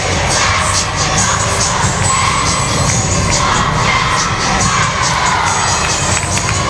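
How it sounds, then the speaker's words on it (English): A large crowd of parents and friends at a 2005 Black college all-star national cheerleading competition cheers and shouts without letup, a loud, dense roar that holds steady throughout. "Lots of crowd participation."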